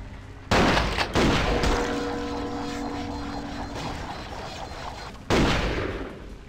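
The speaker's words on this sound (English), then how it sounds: "They're shooting me through the wall." Booming gunshots from Vampire: The Masquerade - Bloodlines, fired through a wall: a heavy blast, a second shot, a long rumbling tail, then another loud blast near the end.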